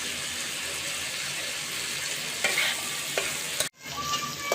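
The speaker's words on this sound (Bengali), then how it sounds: "গাইস এখন অনবরত খুব সুন্দরভাবে নেড়ে একদম ভাজা ভাজা করে নিতে হবে।" Liver filling for kalija singara sizzles steadily in a pan while being stirred continuously, a dense frying hiss with a few scraping clinks, then a brief break before the sizzle resumes.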